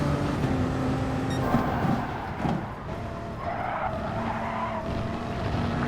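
Race car skidding off the track at Monza in Gran Turismo Sport, a loud continuous engine roar with a rough scraping skid and brief tire squeal through the middle, steady and close throughout.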